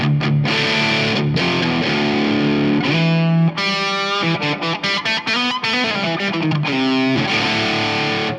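A heavily distorted electric guitar through a Marshall Plexi cab simulation with an off-axis SM57 plays loud chords and riffs with sustained notes and short choppy stops, up close with a wide, reverberant sound.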